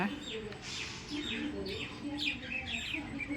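Pet finches chirping softly, with a scatter of short, high tweets over a steady low background hum.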